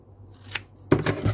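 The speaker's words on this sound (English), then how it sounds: "I just cut a piece of cardstock" Scissors snipping through a piece of cardstock for a paper craft project, a faint early snip followed by a louder, close crisp cut with a short papery rustle.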